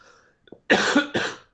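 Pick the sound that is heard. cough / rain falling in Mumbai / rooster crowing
cough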